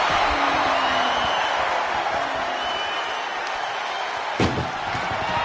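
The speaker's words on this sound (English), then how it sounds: "Trying to at least slam one door shut." Ambulance door slamming shut in the WWE 2K24 wrestling video game, a single sharp slam near the end heard over a steady, loud arena crowd roar.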